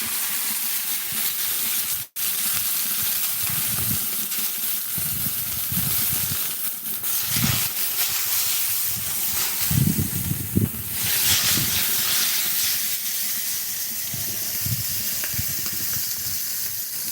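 Deer meat frying in olive oil on a griddle gives a steady, close hiss and sizzle that runs throughout, with a brief dropout near the start and occasional low pops.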